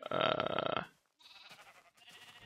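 Sheep in Minecraft bleating in three short, nasal calls separated by brief pauses, the first louder and fuller than the two that follow, with no talk over them.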